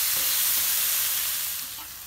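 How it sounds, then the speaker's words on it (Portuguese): Parboiled onion with a pinch of salt fries in a frying pan, a dense, even sizzle that eases slightly in loudness toward the end. "A cebola só aferventei ela, ó, coloquei uma pitada de sal, eu vou passar aqui na frigideira"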